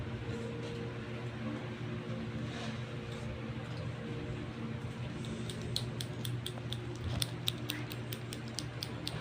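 Scissors handled close by during an unboxing, with clicks and light metallic snips growing sharper and more frequent toward the end over a steady room hum.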